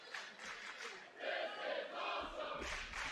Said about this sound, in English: Crowd agrees with you, DRE.